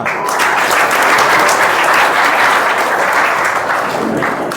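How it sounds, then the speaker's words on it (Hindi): Loud, dense applause from a village crowd at a general knowledge competition, greeting the first prize winner, sustained and even from start to finish with no talk over it. "गुड़िया के लिए जोरदार तालियां"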